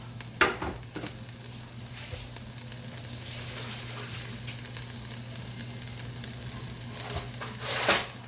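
Chopped seafood pasta ingredients, clams among them, sizzle in a hot pan over high heat, a steady frying hiss with a few sharp crackles and a louder burst at the very end, close and without voices.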